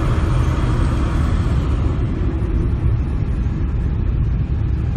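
Steady road traffic on the way from Nairobi airport into the city, Kenya, a continuous loud rumble of car engines with no distinct pauses and no voices.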